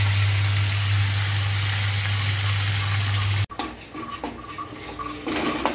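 Onion and tomato fry with spices in a pan, a loud steady sizzle that cuts out abruptly, followed by softer stirring and clattering of utensils against the pot.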